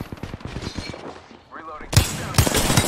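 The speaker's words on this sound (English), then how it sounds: "Opening fire." Game gunfire from Apex Legends: a burst of loud, sharp shots in quick succession near the end, after a stretch of busy in-game sounds and chatter.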